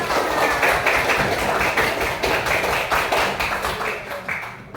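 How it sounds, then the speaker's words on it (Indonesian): A school classroom applauds together at the end of a lesson, many small hands clapping in a fast, dense patter that stays steady and fairly loud throughout, with no voices over it. "Tepuk tangan untuk kita semua."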